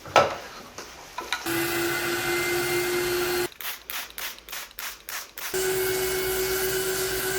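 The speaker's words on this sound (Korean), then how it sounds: "그리고 습식 청소기로 이제 제거를 하면 됩니다." A loud wet vacuum cleaner motor whines continuously while extracting cleaning solution, cutting into a choppy, pulsing stretch mid-way before returning to a steady roar.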